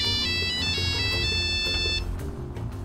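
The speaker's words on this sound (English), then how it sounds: "Someone's calling Timmy" Phone ringtone for an incoming call in GTA 5, a bright electronic melody of repeated tones playing loudly for about two seconds over a low rumbling game background, then stopping.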